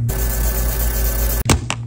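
A laser machine hums steadily and loudly while removing the back glass of an iPhone. It cuts off abruptly near the end, followed by a couple of sharp clicks.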